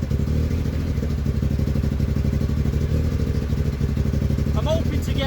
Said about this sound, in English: I hope you can hear that it's completely misfiring. You can hear it popping.